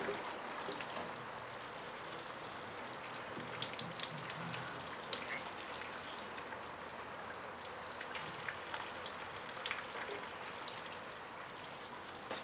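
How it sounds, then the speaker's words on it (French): Steady rain falls on a surface in winter in Venice, a dense, continuous patter with scattered louder drops, close and even throughout with no talk. "Ah, il va pleuvoir."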